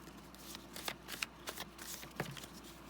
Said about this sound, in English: One more shuffle there.